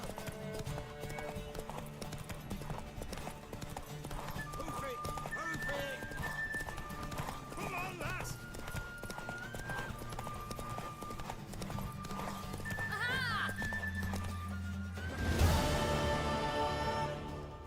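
Horse hooves clip-clopping at a gallop with whinnies and neighs from a mare in The Witcher 3, layered over game music and speech, rising to a louder burst near the end.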